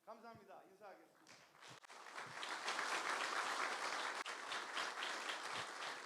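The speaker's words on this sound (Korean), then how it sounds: "명예박사 학위를 수여받으신 두 분께 다시 한번 큰 박수 부탁드리겠습니다." An audience at a university honorary doctorate ceremony marking a 55th anniversary bursts into sustained, loud applause right after a brief spoken announcement, the clapping swelling and holding to the end.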